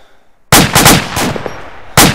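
Loud close bursts of rapid gunfire in a video game battle set at Ia Drang, one long rattling burst after a brief quiet, then a second burst starting near the end.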